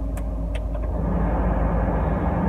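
A four-wheel drive vehicle pushes through snow on a farm during a heavy storm, its engine a steady low rumble with muffled crunching and a few faint knocks early on.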